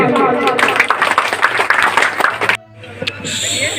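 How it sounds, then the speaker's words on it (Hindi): An audience claps loudly and densely at the opening of a coaching institute in a village, a dense crowd applause lasting a few seconds before cutting off abruptly, followed by quieter room sound. "एक बार धमाकेदार जोरदार दिल खोल के एक बार ताली मारिए"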